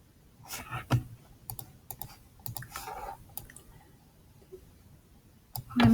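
Sharp, dry clicks of a computer mouse come in scattered bursts while images are dragged in from a desktop folder, with a louder cluster of clicks near the end. No one speaks.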